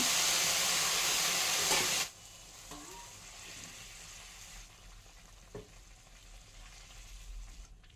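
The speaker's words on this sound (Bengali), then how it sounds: "দেখুন চালটা ভাজা হয়ে গেছে এবার আমি এই চালের মধ্যে দিয়ে দেব তিন বাটি গরম জল" Hot water poured into fried basmati rice for a basanti pulao, a loud sizzling hiss for about two seconds that suddenly cuts off, followed by quiet bubbling and faint kitchen clatter.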